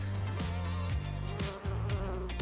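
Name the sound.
honey bee buzzing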